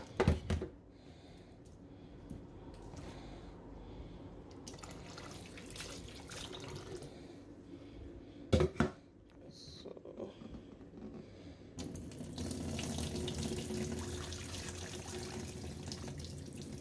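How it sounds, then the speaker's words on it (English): Tap water running into a kitchen sink while vegetables are washed, a soft intermittent trickle and splash with a few louder clatters, then a fuller steady gush in the final seconds. "Fill it up with some water and then put it to cook."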